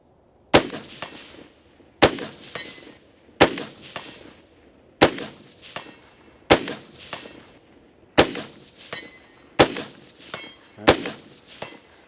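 Rifle shots fired at long-range LaRue steel targets outdoors, eight loud sharp reports spaced roughly every 1.5 seconds, each followed by a short decaying echo tail.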